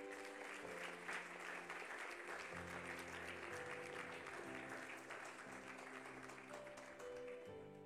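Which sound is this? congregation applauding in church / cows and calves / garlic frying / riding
congregation applauding in church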